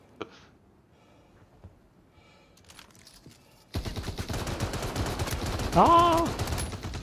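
A quiet stretch gives way to a sudden burst of dense, rapid gunfire in Apex Legends that continues loudly to the end, with a short shout near the start.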